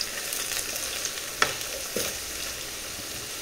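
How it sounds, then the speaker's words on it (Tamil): Vegetables frying on a simmer-to-medium flame in a pan on a gas stove, a soft steady sizzle with a couple of brief stirring clinks, no talking. "இது அப்படியே சிம்லேயே நல்லா ஃப்ரை ஆகட்டும்."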